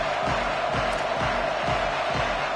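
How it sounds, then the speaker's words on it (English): A loud stadium crowd at a college football playoff game fills the air with a continuous dense roar of cheering and shouting, a steady wall of noise with no clear individual voices. "the crowd is making it really hard to communicate and hear each other right now down on the field"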